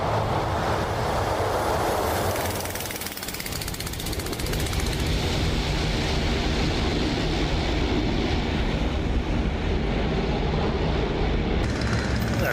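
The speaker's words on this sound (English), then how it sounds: "Give a nice little flyby for you guys to see what it sounds like." In the DCS flight game, a Sopwith Camel biplane's rotary engine roars past in a loud, steady, close flyby, its droning rumble and whine holding throughout with a brief dip near the start.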